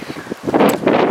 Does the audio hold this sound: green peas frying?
no